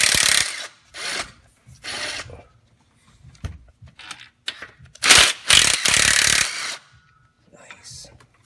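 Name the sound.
removing 15mm nuts from a Ford 5.4L engine with a ratchet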